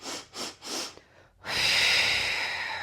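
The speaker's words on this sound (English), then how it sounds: "So it's just 2 or 3 short sniffs through the nose." Three short, quick sniffs through the nose come in a row, close and distinct, followed by a long, steady breath out.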